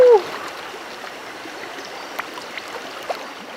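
Mountain river fed by cold snowmelt runoff in the Ouachita Mountains, flowing as a steady, moderately faint broadband wash with occasional small splashes and no talk.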